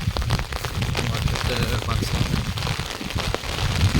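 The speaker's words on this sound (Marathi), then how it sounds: "जवळपास पाऊस आहे और यहाँ पर वेदर बहुत गंदा है" Steady, dense patter of heavy monsoon rain on a surface, loud and close, with a low rumble underneath, at night near a waterfall trek in Kolhapur.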